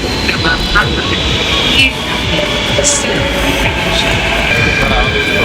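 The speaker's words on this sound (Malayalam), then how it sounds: "നമുക്കുള്ള മെട്രോ വന്നിരിക്കുകയാണ്." Steady rolling rumble of a Mumbai metro train arriving at a busy platform, with a faint high whine and scattered crowd voices mixed over the constant low drone.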